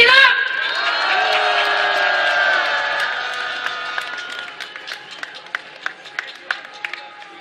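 At a candlelight rally, an outdoor audience breaks into applause, whoops and cheers for the father of an Itaewon disaster victim. The crowd is loud and dense at first, then fades into scattered claps and a few sharp individual hand claps.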